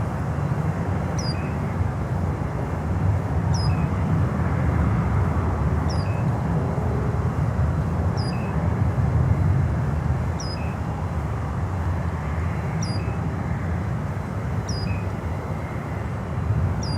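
A DHL cargo aircraft approaches to land, a broad distant jet roar that swells and fades slowly while faint repeated bird chirps sound above it.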